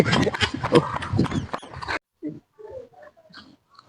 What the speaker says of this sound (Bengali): হাইরে কুকুরে